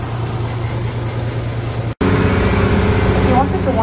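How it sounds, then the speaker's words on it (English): Amusement park train at Dorney Park, a steady rumbling engine drone with rhythmic clatter, cutting out briefly midway and returning with shifting tones, close and fairly loud. "You hear the choo choo?"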